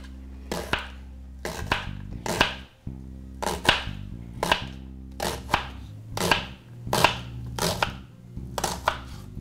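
A knife slices a large washed leek thinly for soup, striking a cutting board about a dozen times in a steady, unhurried rhythm of sharp, close chops with no talking.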